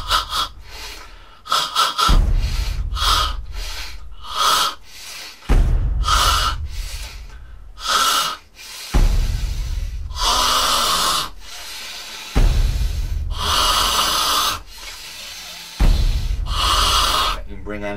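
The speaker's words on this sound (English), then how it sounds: "And do a bit of fire breathing." Forceful fire breathing from a qi gong yoga exercise, breath driven hard through a tensed throat and palate, repeating as a series of loud rasping bursts and gasps in a steady rhythm, close and prominent, alongside dance music.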